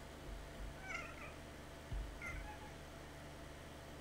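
A flower in the video game Balavour gives off cat-like meows, two or three soft, high mewing calls over a quiet low hum, faint and close, with no one talking.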